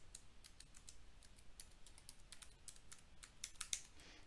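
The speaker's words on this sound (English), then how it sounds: "this is the space to type my password" A computer keyboard is typed on in short bursts of light, faint clicks, a password entered key by key in a quiet room with no voices.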